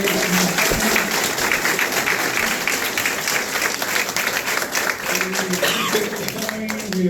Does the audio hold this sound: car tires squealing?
no